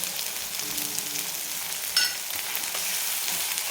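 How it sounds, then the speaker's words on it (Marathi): Chicken masala with red chili powder and black chili spice sizzles steadily in oil, a soft continuous frying hiss with a brief sharper crackle near the middle. "छान मिक्स करून घ्यायचं आणि चांगलं तेल सुटेपर्यंत आपल्याला याला परतून घ्यायचं"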